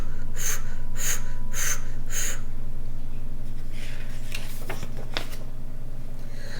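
A voice imitates a rotating lawn sprinkler with four evenly spaced hissing bursts over a steady low hum, followed by faint rustling.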